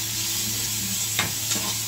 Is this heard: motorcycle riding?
no